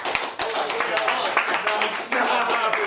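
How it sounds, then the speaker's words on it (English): Audience clapping and applause for the scariest, most original mask, a dense patter of hand claps running throughout under a talking voice. "We give him a round of applause, guys."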